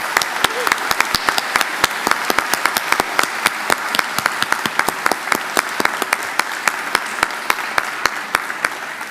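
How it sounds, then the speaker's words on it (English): A large crowd at a university graduation ceremony claps steadily and loudly, with individual sharp claps standing out above the even wash of applause throughout. "please join me in giving them a round of applause"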